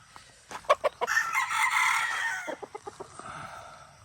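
A sweater-line gamecock bred for cockfighting crows nearby, one long loud call in the middle set between sharp clucks and wing-flap bursts, with short clucking pulses following at the end.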